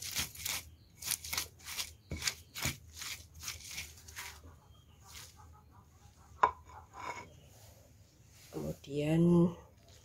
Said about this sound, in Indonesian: Kita tumbuk jahenya, geprek-geprek, dan kita haluskan lagi.